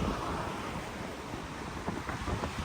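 Floodwaters of the swollen Sutlej river at Ropar rush in a steady, broadband roar, with gusts of wind buffeting the microphone throughout, loud and continuous with no voices.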